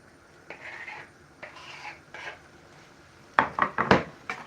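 Chicken pieces tipped into a pan of pasta and stirred in, with scraping, clinking utensil knocks against cookware, soft at first then a loud cluster of sharp clatters near the end.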